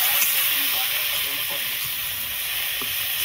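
Tomatoes go into sizzling masala frying in a pan, giving a steady, close hiss and crackle throughout, with faint voices in the background.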